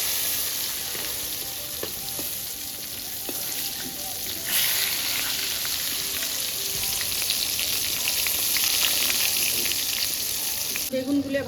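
Pieces of eggplant, coated in salt and turmeric, fry in hot oil with a continuous crackling sizzle. There are occasional stirring scrapes and a louder burst near the end.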